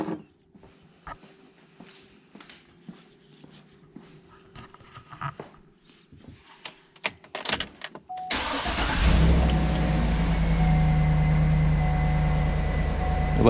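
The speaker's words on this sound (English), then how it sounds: "Tells you to start the engine." A car engine cranks and fires up during a TopDon BT100 battery cranking test, with quiet handling clicks first, then a sudden loud catch into a steady, close idle that runs on to the end.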